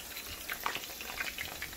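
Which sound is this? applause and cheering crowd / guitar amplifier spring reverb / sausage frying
sausage frying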